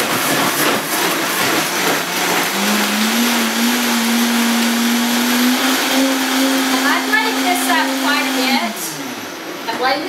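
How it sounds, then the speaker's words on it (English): A plastic-cup blender blends dried tomatoes into ketchup, a loud steady motor roar with a rising whine that holds for several seconds, then winds down near the end. "Blend this up quite a bit because I want to make sure all of those dried tomatoes are blended up"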